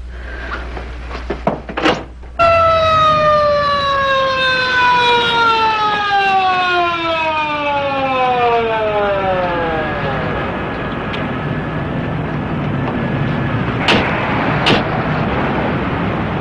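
After a sharp slam, a siren wails with a long, slowly falling tone, growing fainter as it draws away, with a few knocks later.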